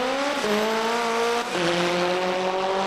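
Drag car at a Japanese-car drag series pulling hard down the strip, its loud engine note climbing steadily and dropping sharply twice as it shifts up through the gears, near and continuous with no talk.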